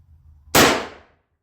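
A Marlin 1894 lever-action rifle fires a single .357 Magnum round outdoors: one sharp, loud crack after a quiet lead-in, decaying quickly into a short echo.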